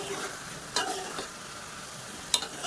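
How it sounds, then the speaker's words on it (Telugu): A spoon scrapes and taps a few times while masoor dal masala is stirred in a pan, quiet strokes over a soft, steady sizzle with no voices. "ఇప్పుడు ఒకసారి బాగా కలపండి."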